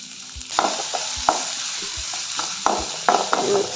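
Onion and carrot frying in a pan, a steady sizzle broken by several sharp spatula scrapes and taps against the metal, close and moderately loud.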